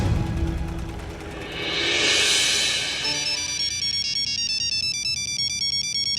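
A phone ringtone plays alone, a bright electronic melody that swells then settles into a steady repeating pattern of beeping tones.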